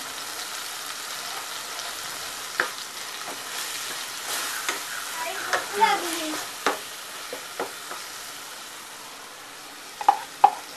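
Prawn masala with added red chili powder and garam masala frying in a pan, giving a steady close sizzle with occasional spoon scrapes and clinks against the pan, and no talking.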